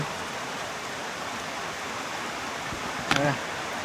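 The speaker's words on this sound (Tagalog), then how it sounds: "Napakalakas ng ulan." Heavy rain pours in a steady, dense hiss with no letup, and a brief call rises out of the wash near the end.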